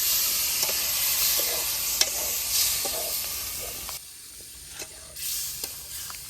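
Chicken is stirred and fried in a pan with a splash of water at an outdoor jungle picnic. A steady hissing sizzle is broken by clicking spatula strokes and briefly drops away before the frying surges back.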